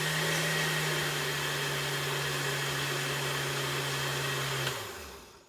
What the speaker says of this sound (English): Now I'm just going to puree this.